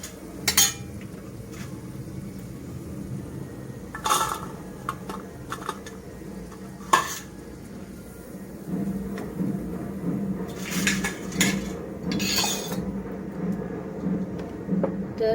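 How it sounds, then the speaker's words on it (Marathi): Crispy besan-coated fried okra being lifted out of hot oil in a pan, giving several sharp metallic clinks and scrapes of a utensil against the pan over a steady low sizzle. "हे बघा आवाजावरून समजत असेल तुम्हाला खूप क्रिस्पी झाले आहेत"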